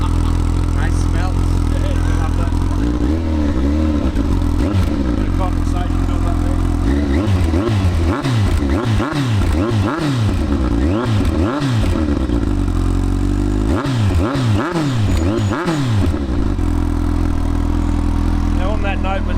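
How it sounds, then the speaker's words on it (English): A Kawasaki GTR 1400 motorcycle engine with a throaty sports exhaust revs repeatedly, rising and falling in loud bursts close by, idling between pulls. "with that sports exhaust put on there, is a really nice note, as you probably just heard"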